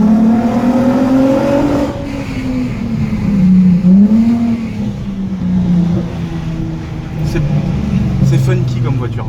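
An R32 car engine revs and rumbles loudly in narrow streets with rising and falling pitch, steady throughout, up close as if heard from inside or beside the car.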